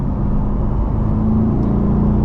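Chevrolet C8 Corvette engine pulling hard, a loud, steady low rumble with a rising tonal note near the end and no voices.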